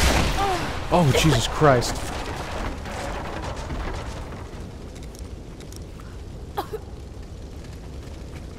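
Greek fire vessels igniting and exploding in Rise of the Tomb Raider, a heavy rumbling blast that rolls on and slowly fades, with a voice exclaiming over the start and a sharp crack later.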